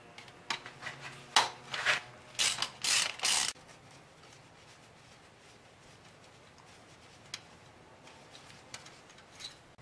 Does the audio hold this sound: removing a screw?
yes